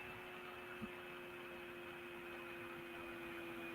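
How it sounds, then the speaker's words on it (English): A computer cooling fan hums steadily and faintly in the background, a constant low whir with a faint tonal drone throughout and no talk. "Oh, that's the computer, man. That's the computer. Oh, okay. The fan on the computer."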